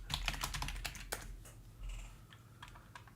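Typing on a computer keyboard, a quick irregular run of clicks and clacks close by with brief pauses, no voices.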